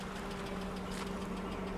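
A BMW E36 M3 engine idles steadily nearby, a low continuous hum with a faint, rapid ticking running through it.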